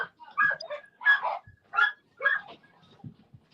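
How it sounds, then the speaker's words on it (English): Several dogs moving around indoors give a string of short yips and whimpering barks in uneven bursts, close and moderately loud, with small thumps of movement between them and no speech. "I think my assistant is moving dogs about."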